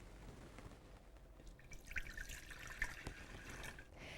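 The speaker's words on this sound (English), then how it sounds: "Pour the water into the baking pan." Water pours into the baking pan of a Zojirushi Home Bakery BB-HAQ bread machine, a soft trickling and dripping stream that is quiet and close, with faint splashes and no talk.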